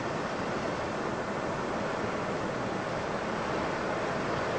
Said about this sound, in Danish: Prøv at se bølgerne.